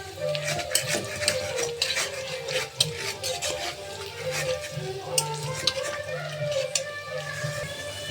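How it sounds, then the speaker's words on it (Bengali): Chopped onions stir-fried in a pan as the base for a chicken kosha, with a steady oily sizzle and repeated scraping spatula strokes close by; no one talks. "চিকেন রান্না করা হবে, পেঁয়াজটা একটু হালকা করে একটু নেড়ে নেব"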